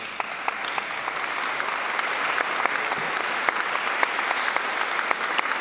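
A church congregation gives sustained applause, dense and steady with many hands clapping at a moderate distance, a continuous even wash of claps with no talk over it.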